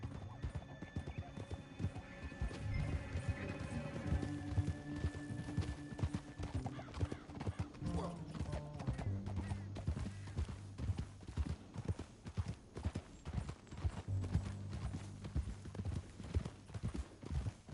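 Horses from Red Dead Redemption 2 ride through a canyon, hooves clip-clopping in a steady, busy rhythm over a low rumbling game score, with an occasional whinny and no talk.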